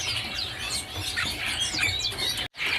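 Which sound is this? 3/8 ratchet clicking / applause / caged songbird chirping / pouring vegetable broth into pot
caged songbird chirping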